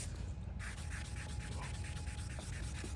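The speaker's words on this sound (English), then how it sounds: "and you're gonna start sanding" 1000-grit sandpaper wrapped around a ceramic coating block wet-sands a car headlight, a continuous rhythmic scrubbing of quick back-and-forth strokes, close and steady.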